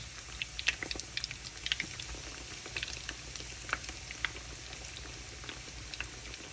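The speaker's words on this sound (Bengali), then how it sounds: "মন পিঠা বানিয়েছি এখন এটাকে ডিপ ফ্রাই করে নেব" Mon pitha deep-frying in hot oil, with dense, steady crackling and bubbling full of quick pops, close up and uninterrupted.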